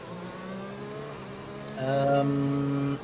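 Formula-style race car engines idling and revving on a formation lap at the British circuit in F1 2020, with steady harmonic engine tones that rise louder and higher midway, while a voice talks over them.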